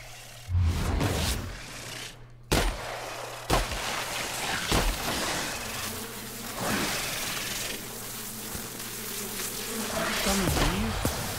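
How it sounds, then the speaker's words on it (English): Summoned bees buzzing in The Outer Worlds video game, a swarming drone mixed with sharp combat impacts and whooshes, with people talking over the action. "Are you summoning some bees?"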